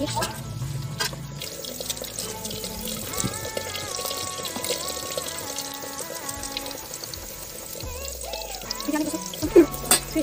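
Fish being rinsed under running tap water in a kitchen sink, a steady splashing flow with drips and handling noises, close and moderately loud, with music or voices faintly underneath.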